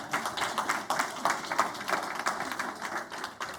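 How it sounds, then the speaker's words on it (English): Audience applause fills a community town hall in Dunedoo, a steady patter of many hands clapping at moderate volume throughout, with no one speaking over it. "So please give them a round of applause."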